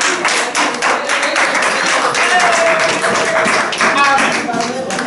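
A church congregation claps during a sermon, a busy patter of many hands that carries on steadily, with voices talking over it.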